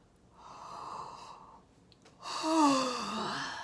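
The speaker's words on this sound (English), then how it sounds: "Now, when you yawn," A yawn breath demonstrated as a long, relaxed voiced exhalation followed by a deeper, louder breathy yawning sound with a rising-then-falling vocal tone, close and alone.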